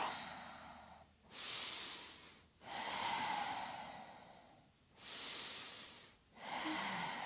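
Slow, deep breaths drawn and released while holding a yoga bridge pose, four or five long airy inhales and exhales in a steady rhythm, close and soft.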